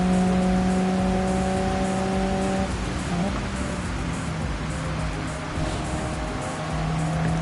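Race cars on a wet Suzuka circuit in a racing video game, a loud engine drone with a note that shifts as a car drifts sideways through a fast corner.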